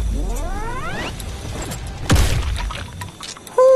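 Gunfire in a video game striking the barrel of the player's gun: a dense burst of sharp metallic impacts and booms with ringing tones, a loud hit near the middle and another abrupt blast at the end.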